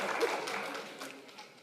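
Engineering students clap their hands in a large audience, a soft, fairly distant burst of applause that fades gradually over under two seconds.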